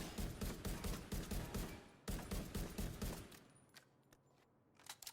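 Rapid, evenly spaced Maxim 9 pistol shots ring out in a video game, a quick string of about a dozen cracks that fades into quiet. Faint overall, with a couple of soft clicks at the end.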